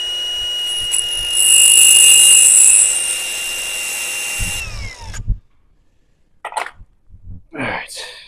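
A power tool grinds down seized parts on a quad, a high, loud whine for about four seconds that cuts off abruptly, followed by scattered clanks and handling noises.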